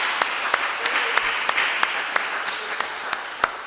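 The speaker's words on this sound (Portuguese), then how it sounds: "Dá uma salva de palmas para ele." A church congregation claps during a service. The claps are light and spread out in a loose rhythm, with one stronger clap near the end, over low room ambience.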